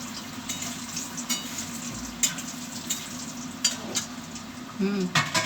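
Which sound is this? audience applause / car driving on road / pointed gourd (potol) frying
pointed gourd (potol) frying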